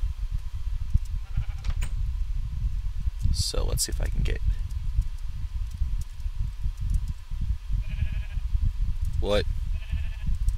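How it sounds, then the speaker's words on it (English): Sheep in a video game give a few short bleats, one clear near call standing out, over a steady game backdrop while someone talks. "I have a pair of sheep."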